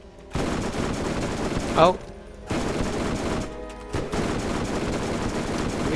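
Long bursts of rapid SMG fire in Borderlands, loud and continuous, broken by short reload pauses, with a player's voice exclaiming briefly in between.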